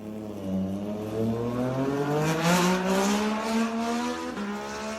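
Moto2 racing motorcycles with Triumph three-cylinder engines scream past at the Assen circuit, engines rising steadily in pitch as they accelerate and shift up, loud and continuous with no voices.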